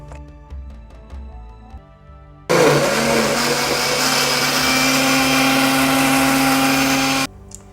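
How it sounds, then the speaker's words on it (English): A blender roars loudly for about five seconds, steady and close, pulsing water, bean flour, vegetables and shrimp, after some quieter clinks and kitchen sounds. "Half fill a blender with water and pour in the beans flour"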